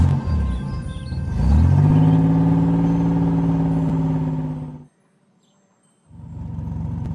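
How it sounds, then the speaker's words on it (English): A cartoon bus drives up to a bus stop, its engine revving up into a loud, steady rising whine, then cutting out to brief silence before the rumble returns. "The bus has arrived at the bus stop."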